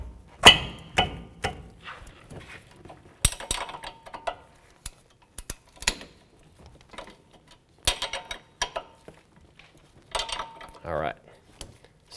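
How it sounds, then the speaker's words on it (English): A 17 mm wrench works a rusty sway bar link nut loose on a 2005–2016 Toyota RAV4 front suspension, a series of sharp metallic clicks and clanks at irregular intervals, close by, with occasional low voice sounds. "we're gonna crack it loose with a 17 millimeter"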